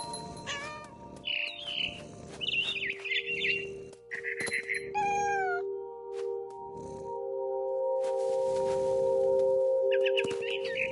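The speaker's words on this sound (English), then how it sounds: "Then I heard chirping outside my window." Bright bird chirps and whistled calls repeat in short bursts among other game sounds and sustained tones in What Remains of Edith Finch, fairly loud and close.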